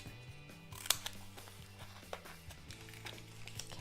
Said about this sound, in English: So I need one more little foam square, and I'm going to cut that here